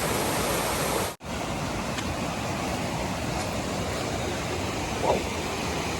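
Water from a stream at a hiking-trail water crossing on the Pinhoti Trail rushes in a constant, hissing flow, steady and fairly close, with a brief dropout near the start.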